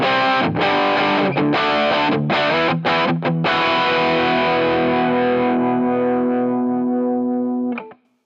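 Distorted electric guitar through a Headrush rig with a 57 mic on the cab, a few choppy chords followed by a long ringing chord that slowly fades, loud and alone.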